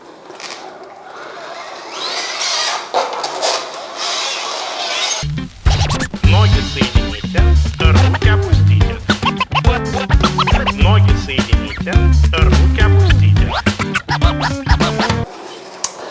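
Scratchy, noisy playback of a vinyl record played through a sheet of paper starts faint and hissy, then music with a thumping bass beat plays loudly through crackly, rough surface noise before stopping near the end.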